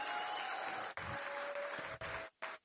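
A crowd gives Dr. Eric Naputi a round of applause at a product prelaunch event in Arizona: steady clapping, broken by a few short gaps and sharp cuts.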